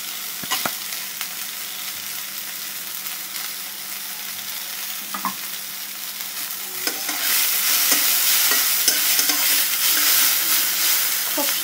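Chopped onion, chili and coriander fry in a little oil, a steady sizzle that swells louder partway through, with occasional stirring scrapes and clinks of a utensil in the pan.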